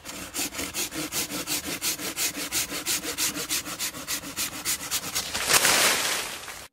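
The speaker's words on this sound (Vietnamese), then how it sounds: "bây giờ cưa thôi" Rhythmic back-and-forth rasp of a hand saw cutting a large tree branch, about three strokes a second, ending in a louder crack as the branch gives way.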